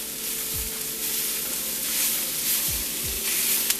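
Tempeh sizzles steadily in a hot pan, a dense continuous crackle with a few low knocks of a utensil stirring and scraping through it, close and fairly loud with no voices.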